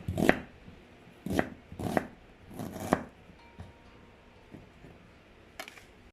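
Knife chopping tender beef loin into cubes on a board for beef pares, with five sharp, close chops in an irregular rhythm, followed by quieter knocks and one more chop near the end.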